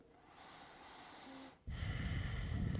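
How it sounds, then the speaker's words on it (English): A long deep breath during a power yoga flow: a soft, drawn-out inhale, then a short pause and a louder, rushing exhale close to the microphone, with no talking. "One last deep breath."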